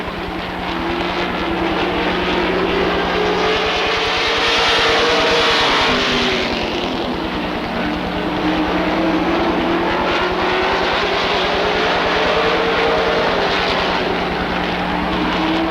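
Race cars roar through a 12-lap heat race at Rockford Speedway, a dense continuous engine drone with pitch sweeping up and down as cars pass, loud and sustained with no talk.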